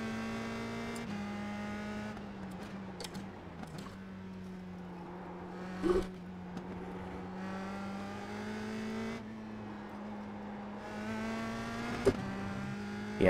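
A USF2000 open-wheel race car in iRacing at Oulton Park drones steadily at mid revs through the whole stretch, its engine note dipping and rising with gear changes and throttle, with a couple of brief sharp knocks along the way.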